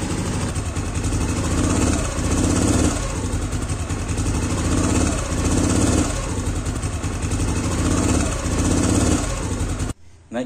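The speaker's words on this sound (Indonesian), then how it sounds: "Ini kalian bisa dengar sendiri ya suara mesinnya." A scooter engine with a worn CVT case bearing idles with a loud, rough running drone and a rhythmic rattling knock that pulses roughly every second, up close, before cutting off near the end.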